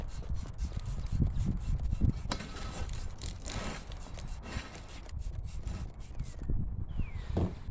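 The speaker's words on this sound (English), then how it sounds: "this is just 120 grit sanding block" Close, rhythmic rasping strokes of a 120 grit sanding block rubbing back and forth over a surface, with a few scrapes and brief pauses.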